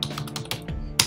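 Quick keystrokes tap on an iMac computer keyboard, a close, brisk run of several light clicks in about a second with no talk over them.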